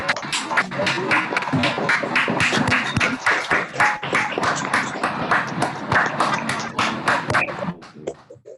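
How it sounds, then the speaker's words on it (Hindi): Children's audience at a Jain pathshala bal sabha clapping hard, a dense run of many hands that holds strong for several seconds and then thins out and fades to scattered claps. "तो बजाइए जोरदार"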